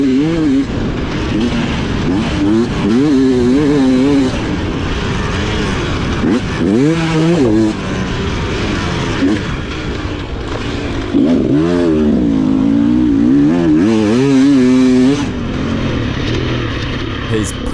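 Dirt bike engines rev and wind up and down repeatedly on a trail ride, rising and falling in pitch as the rider works through a section, with a voice talking over the engine noise.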